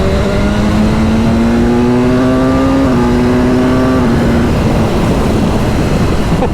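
BMW S1000R motorcycle engine dropping a gear and pulling hard, a loud close droning whine that climbs in pitch in steps with each gear change, then fades into rushing wind noise.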